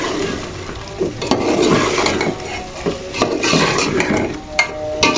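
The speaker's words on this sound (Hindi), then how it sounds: "अब हम इनकी भुनाई करेंगे अच्छी तरह से" Boiled eggs and potatoes frying in a pan, with a continuous sizzle and occasional scraping knocks from a spoon, close and fairly loud.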